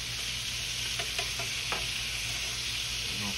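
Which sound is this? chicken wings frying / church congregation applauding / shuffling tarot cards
chicken wings frying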